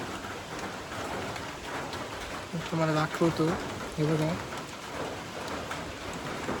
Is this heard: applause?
no